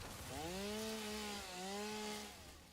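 Chainsaw in the Satisfactory video game cutting down trees in an area mode, a steady droning whine rising and falling over about two seconds, close and moderately loud with no talking.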